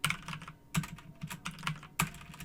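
Computer keyboard typing in short bursts of clicking keystrokes, close and fairly quiet, with brief pauses between runs and no voices.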